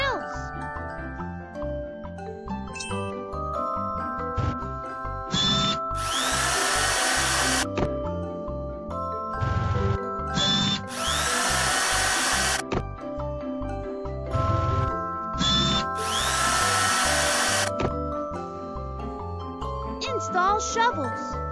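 A power drill in a construction-truck cartoon whirs in three loud, sustained bursts of a few seconds each, set against a background of music and cartoon sound effects with a child-like voice speaking between them.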